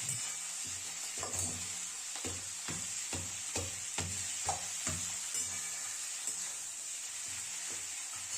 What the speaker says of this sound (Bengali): একটু ভালো করে কড় করে তেলে ভেজে নিতে হবে একটু টাইম নিয়ে।